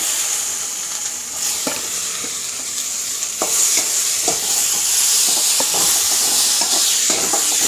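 Onions sizzle and hiss steadily in a hot pan with a little salt, with occasional scraping clicks of stirring breaking through the frying noise.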